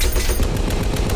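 Rapid automatic gunfire from a war film crackles as a loud, fast string of regular bursts, dense and continuous over a brief stretch.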